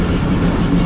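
A parcel express train rolls in, a steady broad rumble of wheels and wagons at close range with a faint clickety rhythm, continuous and fairly loud with no voices.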